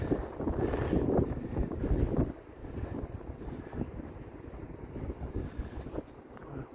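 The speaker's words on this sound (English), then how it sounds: "it is very cold and very windy." Strong, bitterly cold wind buffeting the microphone on an evening walk over Toronto's Bloor Viaduct, heavy rumbling gusts, loudest in the first two seconds and then easing to a steady blustery roar.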